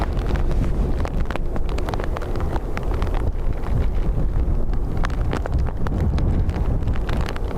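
Strong, gusty wind buffets an outdoor microphone at Dublin Airport, a continuous loud low roar with rushing surges and rumble throughout, with no voices.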